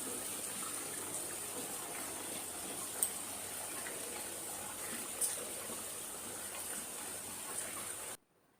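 Fish curry bubbles on the stove in a pan, a soft continuous hiss and simmer with a few faint clinks, steady throughout before stopping abruptly.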